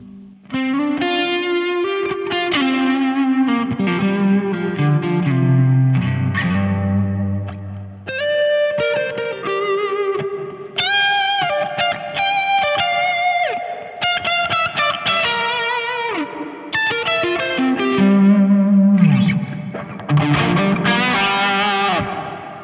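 Electric guitar chords and single notes ringing out, bathed in heavy reverb so each note hangs and blends into the next, played alone.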